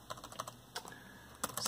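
Keys on an Asus C300S Chromebook with a faulty keyboard are pressed in a quick, irregular run of close, crisp clicks and taps, followed by a pause and then a brief burst of clacks.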